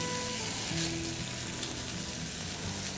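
Beef stir-fries in a hot skillet, a steady close sizzle and crackle that holds evenly throughout with faint tonal hum in the background and no speech.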